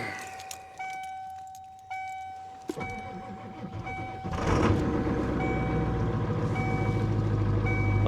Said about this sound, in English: And then we'll crank it over.